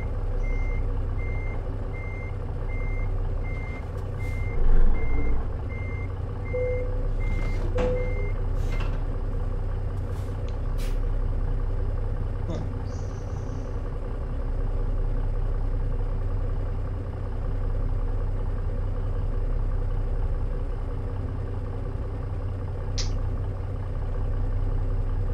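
Truck in American Truck Simulator reversing, with a steady, evenly spaced backup beep over a low idling engine rumble and a few brief clanks and hisses, loud and close, with no voices.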